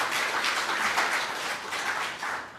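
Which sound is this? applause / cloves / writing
applause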